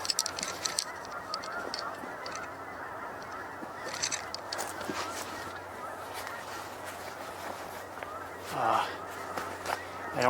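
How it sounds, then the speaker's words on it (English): Many geese honk in the distance outdoors along a trail, a scattered chorus of calls repeating throughout over low background noise, with a louder burst of honks near the end. "Oh, I hear geese, and maybe a lot of them."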